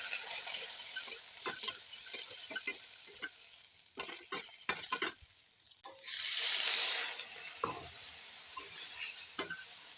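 A spoon stirring fish masala paste for a catfish curry as it fries in a pan, steady sizzling hiss with intermittent scraping knocks, and a louder surge of frying around the middle.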